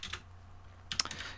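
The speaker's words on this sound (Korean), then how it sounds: "이렇게 타이핑을 하게 된다면" Keys clatter on a computer keyboard in two short quick bursts, quiet and close, against a low steady hum.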